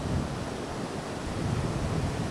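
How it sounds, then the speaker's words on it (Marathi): Waves break along Devbag beach on the Konkan coast, giving a continuous, loud wash of surf mixed with wind buffeting, with no talk. "समुद्र बघा, आवाज बघा तो समुद्राचा."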